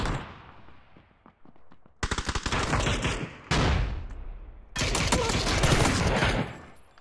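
Video game gunfire heard through budget headphones comes in loud bursts of rapid shots, with several dense volleys separated by short pauses, the quieter opening holding only scattered taps before the shooting starts.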